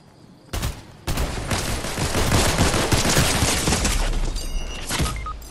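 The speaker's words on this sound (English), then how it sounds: "Shooting from far away." Sustained gunfire in the game Fortnite, a dense stream of rapid cracks and rattling shots that rises to a loud, continuous barrage lasting several seconds.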